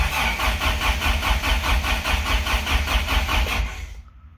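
A 1987 Toyota 4Runner's 22RE engine cranks over on the starter in a fast, even rhythmic churn for about four seconds without firing, loud and close, then cuts off abruptly.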